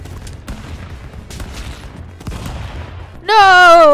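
Rapid bursts of gunfire from the video game Stick Fight crackle through the clip, with a loud tonal game sound taking over at the end.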